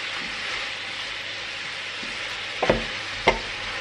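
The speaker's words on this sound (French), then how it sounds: "On va bien venir donc mélanger le tout comme ceci." Tomatoes and parsley sizzle in a pan as they are stirred, a steady frying hiss broken by a couple of sharp utensil scrapes near the end.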